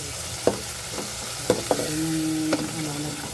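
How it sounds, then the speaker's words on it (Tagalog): Tomatoes and onions frying in a pan, a steady close sizzle broken by several light scrapes and taps of a utensil stirring, with a faint tonal hum in the background and no talk. "malapit ng maluto ang ating kamatis. Pwede na yan. Maganda pa ganyan ang texture ng kamatis sa sibuyas."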